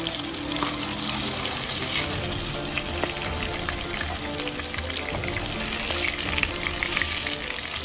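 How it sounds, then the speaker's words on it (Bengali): Hilsa fish seasoned with turmeric, chili and salt fries in a pan on a stove, giving a loud, steady crackling sizzle throughout with occasional pops and faint spatula scrapes as the pieces are turned. "চুলায় একটি প্যান বসিয়ে ভেজে নিলাম এপাশ ওপাশ করে"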